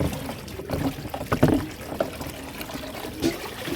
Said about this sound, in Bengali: চলো এটা ভরুক এই বালতিগুলো ভরে নেবো